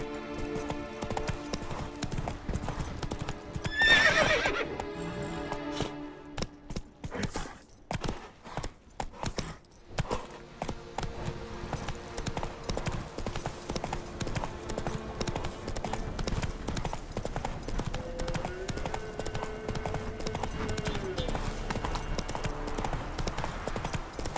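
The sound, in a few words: horse Roach trotting, from the video game The Witcher 3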